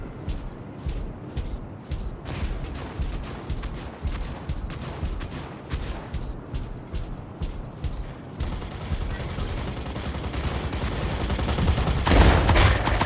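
Rapid gunfire from a mech in the Mech Arena robot battle game, dense repeated bursts of automatic shots that continue steadily before a louder rushing impact near the end.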